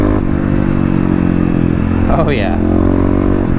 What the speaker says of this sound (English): if you are in the right gear and you hit the throttle, it'll freaking take off